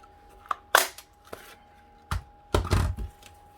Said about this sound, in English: I want to cut out this little notch along the bottom